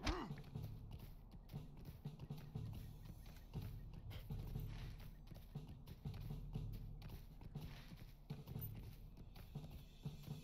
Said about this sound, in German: Pferd galoppiert, aber trotzdem noch mutig weiter.